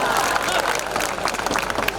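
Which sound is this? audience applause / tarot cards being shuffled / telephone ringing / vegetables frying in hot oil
audience applause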